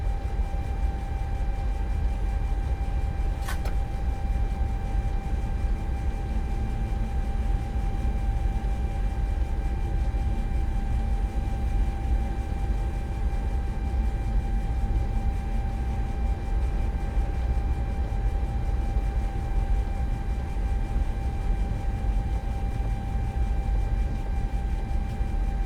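An F45 diesel locomotive in Train Simulator 2021 rumbles continuously with a steady low engine drone and faint sustained tones, plus one brief sharp click early on, no talk.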